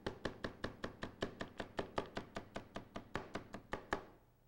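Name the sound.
knife chopping vegetables on a cutting board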